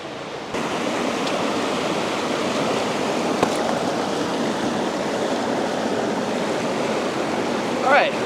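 Water rushes continuously through a gold panning sluice, a broad, steady splashing hiss that starts abruptly and stays loud and even, with a brief faint voice-like sound near the end.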